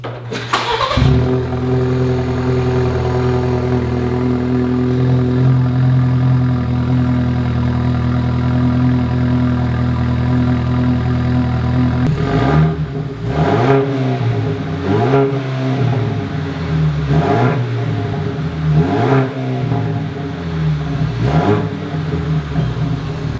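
A Ford Maverick engine with the front muffler cut off remote starts with a loud crank, settles into a steady raw idle, then revs repeatedly in rising and falling bursts.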